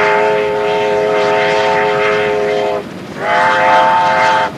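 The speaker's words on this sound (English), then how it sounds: "the last working run of a steam engine on a main line in Australia" A steam locomotive hauling a coal train on its last working main-line run in Australia in 1983 sounds a loud, sustained chime whistle. One long blast breaks off briefly and then resumes, strong and close.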